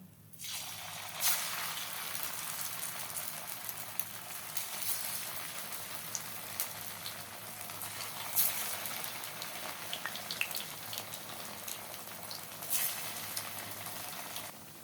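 Semolina and gram flour snack pieces frying in hot white oil: a dense, continuous crackling sizzle like light rain, steady throughout with occasional sharper pops, close and fairly quiet.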